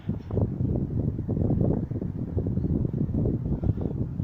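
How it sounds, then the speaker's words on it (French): Steady gusting wind on Blériot beach near Calais buffets the microphone, a low rumbling roar that rises and falls without pause, with no voices. "il y a un peu de vent"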